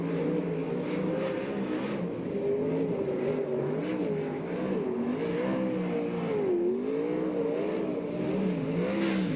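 A USAC/CRA sprint car screams around the track at Alger, Washington on its second lap, the engine note rising and falling steadily through the corners, loud and continuous with no voices over it.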